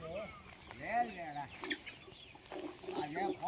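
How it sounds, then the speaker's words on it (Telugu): Country chickens brought from many places and clucking at a village farmhouse, a string of close, varied clucks and squawks with short pauses, and a voice faintly under them. "చూడండి, ఎక్కడెక్కడి నుంచినో తెప్పించాడు నాటుకోళ్ళు"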